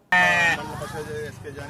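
A sheep gives a loud, close bleat during a village deworming drive for sheep and goats, followed by a quieter, wavering tail as the call fades.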